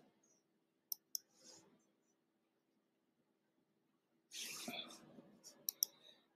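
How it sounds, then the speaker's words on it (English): A computer mouse clicks twice quickly and close, then again a few seconds later amid soft whispery breath and faint murmuring. "I'm just going to click here."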